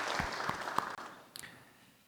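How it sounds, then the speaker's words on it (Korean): A church congregation at a Sunday worship service claps briefly, a soft scattered patter that thins out after about a second and fades away, followed by a few stray claps. "우리 박수하겠습니다."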